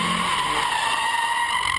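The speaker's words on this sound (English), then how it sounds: "This is my first dedicated drift car." A drift car's tires squeal in a loud, continuous skid that holds steady for the full two seconds, with no voices over it.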